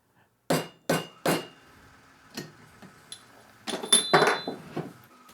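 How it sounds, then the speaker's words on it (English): Old bearings are tapped to press new bearing races into the pocket of a G0765 7x14 mini lathe: three sharp metallic knocks in quick succession, then lighter ticks and a denser cluster of ringing taps, no talking. "I'm using the old bearings, which is probably bad if you ever want to reuse them, to press in the races for the new bearings"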